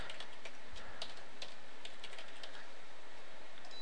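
Keys tapped on a computer keyboard, a quick irregular run of faint clicks in a quiet room while a password is entered, no talking.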